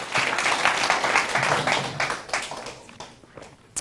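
Audience applause at a talk on achieving happiness: a dense, crackling clatter of many hands clapping that stays loud for about three seconds, then thins out and fades.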